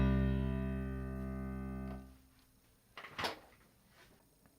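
Low keyboard notes carry the left-hand part of a Christmas song, a sustained bass chord ringing loud for about two seconds, then fading, followed by a few faint clicks and knocks.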